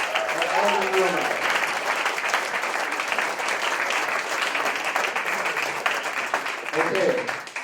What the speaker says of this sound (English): how about a big round of applause for Bob Montebello